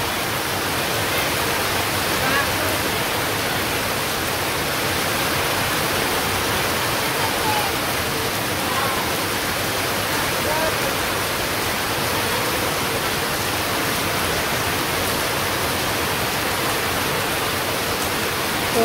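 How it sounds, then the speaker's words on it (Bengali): Steady rain pours down in a dense, unbroken hiss that stays loud and even from start to finish. "দেখতে দেখতে যে লাস্টে বৃষ্টি নেমে পড়লো।"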